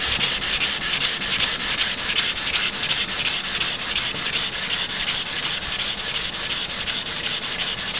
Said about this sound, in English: I'm just going to use a sanding block.